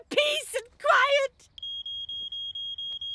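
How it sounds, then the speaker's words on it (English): A smoke alarm in a Fireman Sam cartoon beeps in a steady rapid series of high pulses, heard alone right after characters speak. "That sounds like a smoke alarm."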